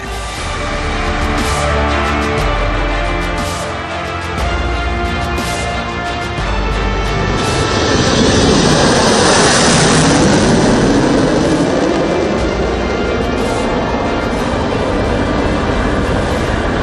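A loud, sustained roar of a military jet aircraft, such as a Sukhoi Su-30 or Mirage 2000 in a flypast rehearsal, swells and passes overhead, a broad rushing noise that dominates throughout with no talking.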